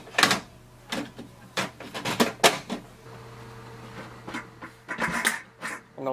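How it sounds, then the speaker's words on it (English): Plastic clicks and knocks as the ink cartridge chamber of an HP Deskjet 2636 printer is closed, a close series of sharp snaps and rattles with a low mechanical hum underneath. "And now we close this chamber."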